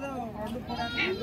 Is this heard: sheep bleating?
yes